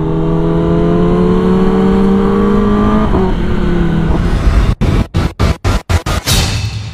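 A Kawasaki ZX-10R motorcycle engine revs up in a rising, high-pitched scream, then bangs out a string of sharp rapid cracks as the throttle snaps, loud and close.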